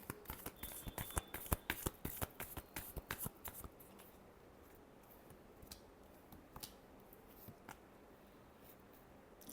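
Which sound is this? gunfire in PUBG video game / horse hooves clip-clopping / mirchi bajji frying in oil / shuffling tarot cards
shuffling tarot cards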